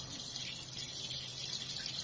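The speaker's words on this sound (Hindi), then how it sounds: "अब फिर पानी चल पड़ेगा इसमें" Water running into a washing machine: a steady, even rushing hiss of water flowing continuously at moderate loudness, with a faint low hum beneath and no talking.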